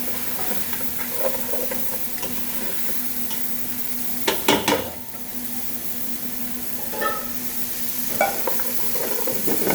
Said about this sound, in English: we're going to saute the shallot and mushrooms